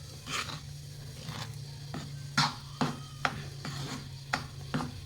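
Powdered sugar mixed into roasted besan flour for laddu, with soft rhythmic rubbing and scraping strokes of a spoon against the vessel, fairly quiet and close.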